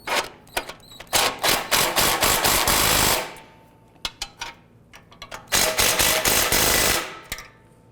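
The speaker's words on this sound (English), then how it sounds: "let's go ahead and tighten these bolts down" A wrench tightens the bolts on a rear exhaust manifold and catalytic converter assembly. It makes rapid, close ratcheting clicks in several dense bursts, with short pauses and a few single clicks between them.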